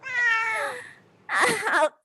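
A cat gives two clear, close meows, a long drawn-out cry followed after a short pause by a shorter, rougher one, with no talking.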